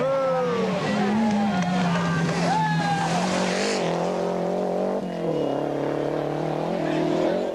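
Lancia Delta Integrale rally car driven hard on a stage, its engine note rising and falling in loud continuous revs and gear changes across the whole stretch.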